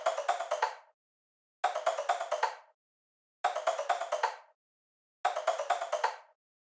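Percussion loop from a trap beat: four identical short bursts of rapid, rattling clicks, each fading out, evenly spaced and quiet, with no voices.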